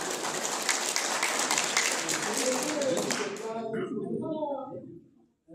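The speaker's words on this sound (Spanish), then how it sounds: "Buenos aplausos." Audience clapping at a meeting of Aymara and Quechua peasant community presidents, a dense patter of many hands that thins out and stops, with a voice speaking beneath it toward the end.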